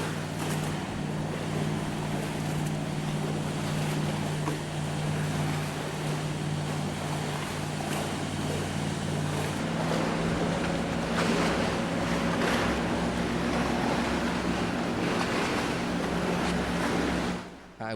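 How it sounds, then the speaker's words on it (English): A steady low engine hum with rushing water and wind, a small pleasure boat motoring past on a river at moderate distance with no voices. "This is a little pleasure craft boat here that went out for a tour."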